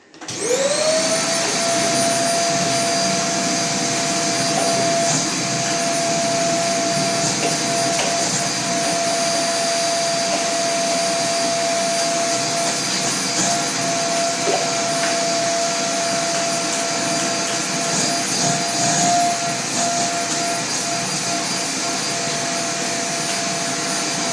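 A vacuum cleaner whirs steadily and loudly from start to finish, with a high constant whine over a broad rushing roar and no talking.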